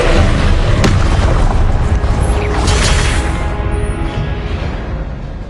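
A Confringo blasting spell bursts in Hogwarts Legacy, a loud, dense explosive boom with a sharp crack near the start, then a sustained roaring rumble that slowly fades over several seconds.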